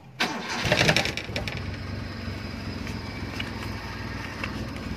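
A car engine starts and settles into a steady mid-pitched idle, close and fairly loud, with no one speaking.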